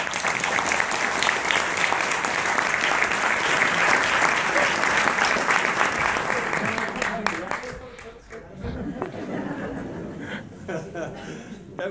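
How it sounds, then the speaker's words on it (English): Theatre audience applauding after a school stage performance, loud sustained clapping with some laughter, fading near the end as a voice begins talking over the dwindling claps. "Don't clap again, they'll get up."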